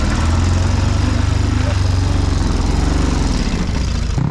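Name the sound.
motorcycle engine running rough on one cylinder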